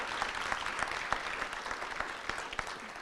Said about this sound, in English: So how about a round of applause for Mayor Hogsett?